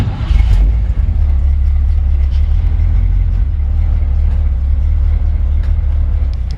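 A 1954 Chevrolet 3100 five-window short-bed pickup, rat-rodded, with a 350 V8 and 700R4 transmission, drives along with a steady, loud, low engine rumble that fills the whole stretch without letup.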